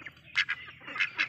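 Several young ducklings, growing large and kept on a duck-raising farm, give short raspy quacks in a loose uneven series, fairly close and moderately loud, with quiet gaps between the calls and no talking.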